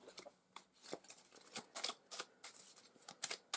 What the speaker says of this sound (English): shuffle the discard card pile back into this deck